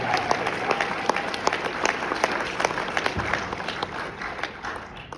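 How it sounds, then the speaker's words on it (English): An audience applauds at an esports lifetime achievement award ceremony, a dense sustained burst of clapping from a crowd that gradually thins toward the end. "Give Golden Boy a round of applause."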